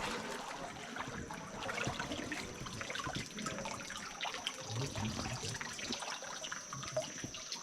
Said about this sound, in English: I said, the waterfall.